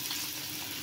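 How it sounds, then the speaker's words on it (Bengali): Flat beans frying in an oil-filled pan, a faint, steady hiss of sizzling oil that continues without a break. "চিমটা ভাজা বসিয়ে দিয়েছি"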